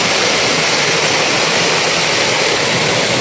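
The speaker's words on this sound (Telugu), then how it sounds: "జలపాతం." A tall mountain waterfall on a Himalayan pilgrimage trail roars in a loud, steady, unbroken rush of water, dense and close, with no voices.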